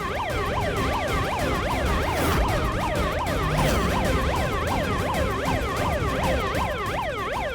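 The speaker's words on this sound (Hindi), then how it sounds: "पुलिस सायरन की आवाज" Police siren wailing loudly and continuously, with two overlapping up-and-down sweeping tones repeating in a steady rhythm, close and alone with no talking.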